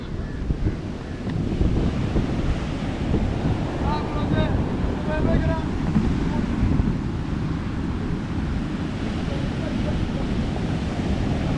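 Storm-driven sea waves surge ashore toward houses, breaking in a steady, rushing roar mixed with gusting wind, with faint voices in the background.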